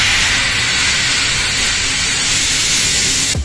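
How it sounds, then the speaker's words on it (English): High-pressure steam hissing from the nozzle of a solar boiler, a loud, continuous, broadband rush that holds steady before cutting off abruptly at the end. "the steam comes out with high pressure from the nozzle"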